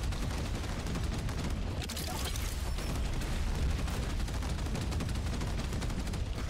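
A heavy mech weapon fires continuously in the video game Dreadhunter, a loud, dense barrage of rapid booming shots that holds steady throughout, with no speech.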